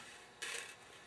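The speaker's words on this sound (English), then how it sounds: "I'll just work the razor lightly across the edge, and it trims the excess" A razor knife drawn lightly along an edge, trimming excess plastic covering, gives a short, soft scraping rasp that starts abruptly and runs for about half a second before fading to quiet.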